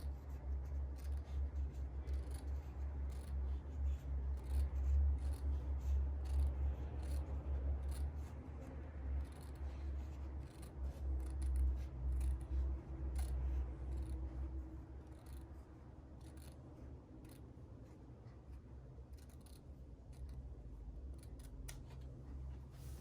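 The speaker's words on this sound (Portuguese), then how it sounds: "com o auxílio da régua, eu vou cortando a medida" Fabric bias strip for continuous bias tape being cut along a ruler, a close, steady dry scraping and snipping that runs without pause for the whole stretch, with no talking.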